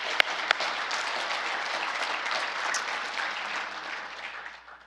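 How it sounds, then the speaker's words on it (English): An audience at an international conference on World War II applauds, with a couple of sharp knocks at the start under a sustained, even roar of clapping that tapers off near the end. "So one more round of applause for Dr."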